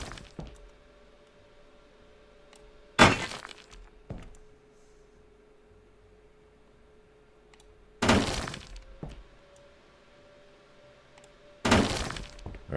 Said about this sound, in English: let me finish smashing up the rest of this here